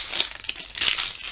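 Plastic wrapping on a Pokémon trading card booster pack crinkles and rustles close up in two quick bursts, with a short pause between them.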